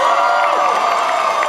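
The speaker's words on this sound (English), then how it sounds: "Round of applause for Hulk." A live audience claps and cheers for Hulk in a short, steady, loud wash of crowd noise.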